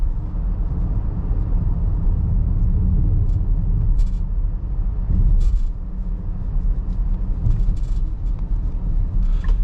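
A 2025 Nissan Murano rolls over rough pavement, heard from inside the cabin as a steady low rumble with intermittent thumps and rattles from the road surface, muted and continuous.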